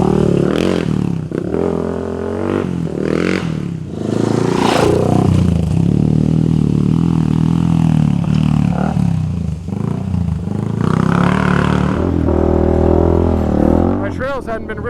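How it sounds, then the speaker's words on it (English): A Honda 400EX ATV rides a dirt trail, its engine revving and surging close by with scraping and clattering over rough ground, while a rider talks over the noise. "I've got the 400EX with me, and I figured now would be a good time to take it for a little bit of a trail rip out here"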